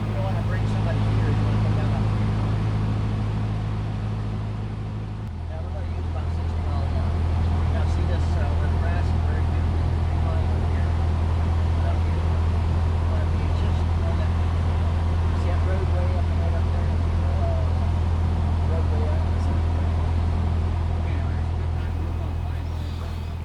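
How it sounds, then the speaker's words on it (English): A small airplane engine drones loud and close from inside the cabin, its steady low hum dropping to a lower pitch partway through as the throttle is pulled back on approach to an airport, with a person talking. "we're getting ready to lower the throttle and come in for an approach"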